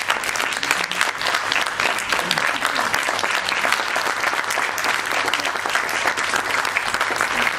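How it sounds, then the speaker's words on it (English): Steady applause fills a Teachers Day celebration hall at Guru Gobind Singh Indraprastha University, dense and even throughout, with a faint voice or two under the clapping. "So they also deserve a special applause."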